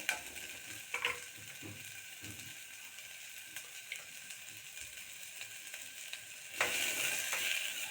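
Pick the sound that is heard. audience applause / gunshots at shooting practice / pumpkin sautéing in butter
pumpkin sautéing in butter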